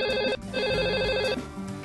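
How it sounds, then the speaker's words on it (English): An office telephone rings in two close, steady electronic trills, the second cut off partway, loud and clear with no one talking. "answers the office phone"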